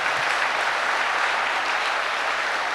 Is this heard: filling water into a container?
no